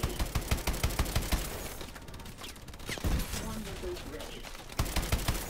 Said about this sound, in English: How are they shooting me behind the fucking box, man?